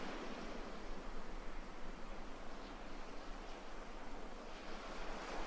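Ocean surf at dawn off Bali washes in a continuous broadband roar, a steady hiss of breaking waves with gentle swells in loudness, soft and even, with no voices.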